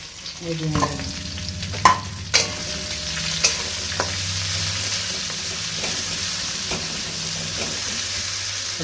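Onions frying in oil and ghee in a home kitchen pan for Bihari bhuna chicken, a constant loud sizzle with several sharp clanks of a spoon stirring against the pan.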